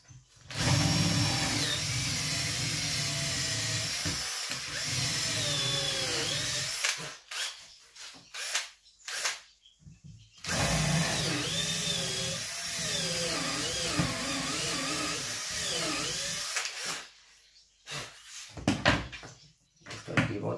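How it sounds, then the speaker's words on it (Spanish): Power drill driving screws to fit pivots on kitchen drawers, a loud whining run of several seconds, a short stop, then a second long drive with brief bursts near the end. "Estos pivotes se atornillan."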